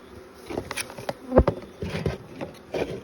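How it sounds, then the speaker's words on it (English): Bees buzz steadily close by around a cedar hive during an inspection, their drone rising and falling as individual insects fly past, with a few soft knocks and taps mixed in. "Bees are trying to get me."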